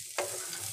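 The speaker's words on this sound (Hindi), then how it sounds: "अच्छे से हम मिला लेंगे।" Suji halwa stirred in a pan: one quick scrape of a spoon followed by a soft continuous frying sizzle, close and brief.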